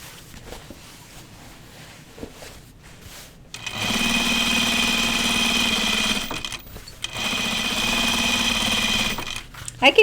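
A home sewing machine stitching thick, snug denim jeans runs in two steady whirring bursts with a pause between, after quiet handling noises and faint talk beforehand.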